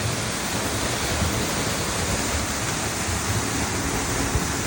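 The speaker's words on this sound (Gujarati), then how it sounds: "ગરમા ગરમ જ પાણી આવે ડારમાંથી" Hot water gushes steadily from a 700-foot-deep farm borewell into an open well, a loud, continuous rushing splash that stays even throughout with no voices.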